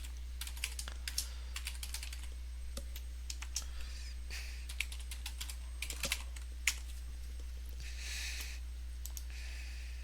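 Typing a username and email on a computer keyboard, a quiet irregular run of crisp key clicks in bursts and pauses over a steady low hum.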